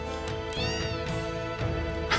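A cat meows in the Final Fantasy VII game at Wutai, several close, tonal meows over a continuous bed of game music.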